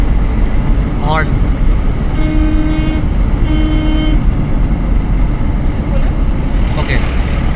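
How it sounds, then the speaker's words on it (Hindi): A car horn honks on the Yamuna Expressway in two short toots over loud road and engine noise inside a moving car, with someone talking. "हॉर्न"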